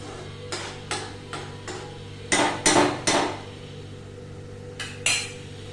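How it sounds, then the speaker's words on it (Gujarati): Onions go into a pan on a gas stove to sauté for a vegetable shahi kurma, marked by a series of sharp metallic clanks and knocks of a utensil against the pan, some louder clusters in the middle, with no talking. "હું પેલા ઓનિયન્સ નાખું છું."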